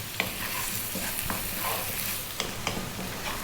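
Spicy potato fry cooking in a pan, a continuous close sizzle with repeated scraping stirs and occasional light utensil knocks, no speech.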